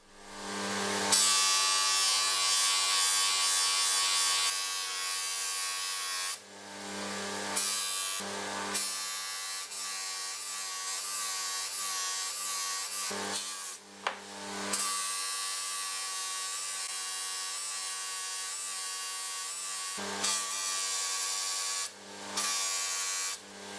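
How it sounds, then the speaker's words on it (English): A soft fabric polishing wheel buffs metal loaded with fine abrasive paste, giving a steady motor hum with a clear tonal whine, briefly interrupted a few times as work is pressed and lifted; no speech. "you use an abrasive paste which you push into the wheel"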